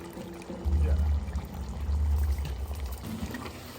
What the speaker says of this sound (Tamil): அரிசிக்கு தேவையான அளவு தண்ணி எடுத்து அளந்து வச்சிருந்தேன் நான் அதையும் ஊற்றி கிளறி போட்டு மூடி விட்டோம்டா